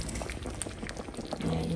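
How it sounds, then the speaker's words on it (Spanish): A pot of meat and fava bean stew boils on the stove, giving a faint, continuous bubbling and gurgling with soft irregular pops throughout. "aquí ya está hirviendo"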